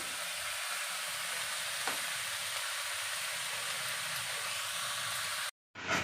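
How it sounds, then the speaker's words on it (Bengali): A steady, soft bubbling hiss of a pot of lentils simmering on the stove, continuous and close, cutting out briefly near the end. "ডালটা একদম টকবক টকবক করে ফুটছে"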